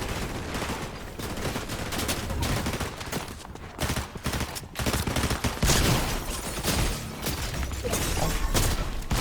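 Rapid bursts of gunfire from Fortnite gameplay, dense and continuous with overlapping shots and booms filling the whole stretch, loud and close with little pause.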